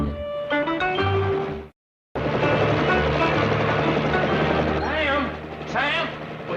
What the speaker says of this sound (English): By golly, Howard, that's one of those military helicopters.